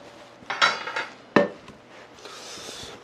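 Two sharp clanks of a native Korean chicken dropped into a metal pot for samgyetang, followed by faint rustling and a low hiss of the kitchen.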